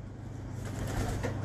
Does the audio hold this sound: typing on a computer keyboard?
no